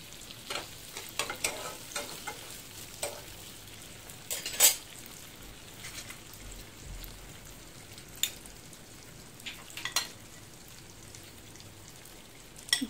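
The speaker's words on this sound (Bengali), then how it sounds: "এরপর টমেটো কুচি দিয়ে দিলাম।" Chopped tomatoes fry in a pan for chilli chicken kofta, giving a quiet, steady sizzle with scattered soft stirring clicks and taps throughout, no voices.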